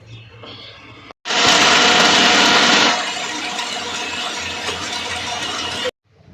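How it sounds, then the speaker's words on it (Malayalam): A kitchen mixer grinder blends grapes, curd, ice cubes, sugar and mango into a shake, starting with a loud harsh whirr that settles into a steadier grinding drone for several seconds before cutting off. "ഇത്രയും വെച്ചിട്ട് ഒന്ന് അടിക്കാൻ പോവാം മിക്സിയിലിട്ട്"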